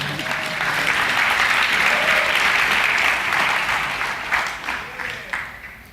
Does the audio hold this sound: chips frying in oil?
no